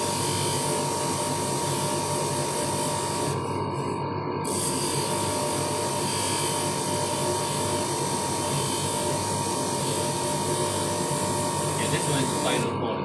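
A polishing machine runs continuously while a crystal point gets its final polish, giving a dense mechanical whirring and rattling drone, with people talking over it.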